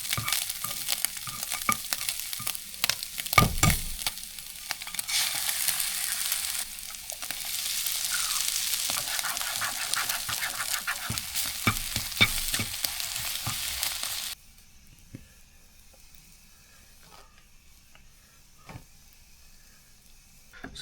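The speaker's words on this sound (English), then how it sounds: "So I'm just getting some color on it and cooking my onions and peppers down." Spam, onions and peppers fry in a pan with a bright, steady sizzle broken by scraping stir strokes and a few knocks. The sizzle drops off abruptly partway through, leaving quieter clinks and faint frying.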